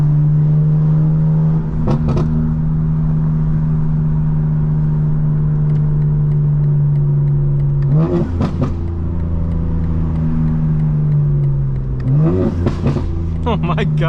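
Tuned 2025 BMW M4 Competition engine revving loud and close, with a sustained drone broken by sharp throttle blips and shifts around the middle and end, and speech over it.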